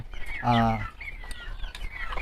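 Backyard chickens cluck and call around feed, with one loud, drawn-out squawk standing out among softer clucks and chirps nearby.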